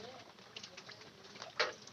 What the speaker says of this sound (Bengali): এই পাশে কবুতর আছে